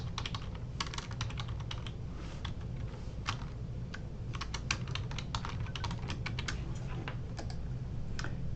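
Quick, irregular clacking of keys as a password is typed on a computer keyboard, close and clear over a low steady hum, with no voices.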